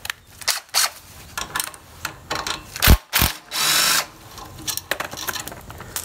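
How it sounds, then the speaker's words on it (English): An impact wrench removes a 10 mm bolt on a Coleman BT200X mini bike, firing in short rattling bursts of hammering blows separated by pauses, with one longer run near the end, close and fairly loud in a workshop. "Now you can take these off with a hammer and a wrench, but if you have an impact, it makes this job a whole lot easier."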